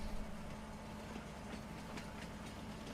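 A train rolls along rails in Farming Simulator 19, a steady rumbling clatter with faint rhythmic clicks, continuous and fairly distant, with no one talking.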